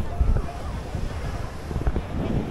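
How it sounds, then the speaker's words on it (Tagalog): Large, high ocean waves roll at a La Union surf beach, heard as a rough wash and rumble buffeted by wind noise on the microphone, with a voice speaking over it. "maganda yung waves. Malalaki, matataas."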